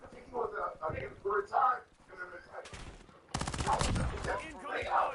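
Rapid automatic gunfire bursts in Call of Duty, two loud sustained volleys in the second half, with a player talking before and between them.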